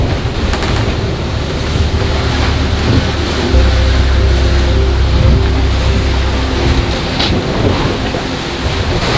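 Loud, continuous roar of strong wind gusting to 40 knots buffeting the microphone over crashing waves of a rough Pacific Ocean sea aboard a sailboat, with a low rumbling drone underneath.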